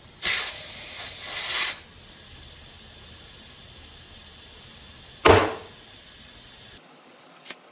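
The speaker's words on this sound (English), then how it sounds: "I can dump air out of the tire really quickly" Air hissing fast out of a OneWheel+ tire through the dump valve on a pressure checker: a loud, close, steady hiss lasting over a second, then quiet, a brief sharp burst later, and a longer faint release.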